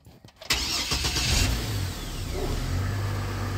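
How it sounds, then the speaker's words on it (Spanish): A 2004 Chevrolet Trailblazer LS engine cranks briefly and catches, then settles into a steady, close idle with no talking. "ahí arrancó el motor, señores"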